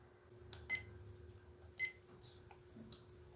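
Button presses on a Sihuadon R-108 two-way radio give a few short, faint, high key beeps, unevenly spaced between soft clicks, close by and with no voices.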